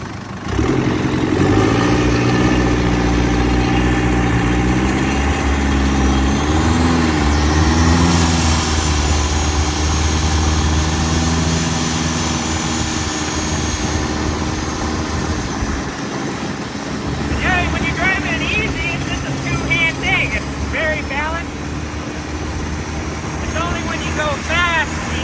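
A 400hp turbo diesel engine on a Thai longtail riverboat runs loud and steady throughout, its deep drone swelling and dipping as the throttle shifts, with splashing water and wind noise on top.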